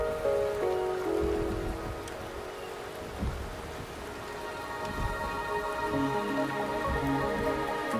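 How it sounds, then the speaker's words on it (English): Steady rain falls in the Wuthering Waves game world, a continuous hiss of drops on surfaces with occasional low rumbles beneath, even and moderately quiet with no talking. "The rain is subsiding, and the sky will soon clear."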